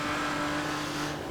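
Nissan GT-R engine in the racing game Grid 2, a steady loud droning hum held at constant pitch for a brief moment.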